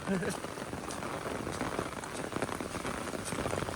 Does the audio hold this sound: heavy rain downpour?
yes